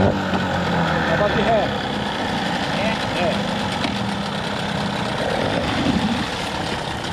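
Mercury 15hp outboard boat motor with a faulty transmission running at idle nearby, a steady loud rumbling drone with slight vibration, while people talk over it.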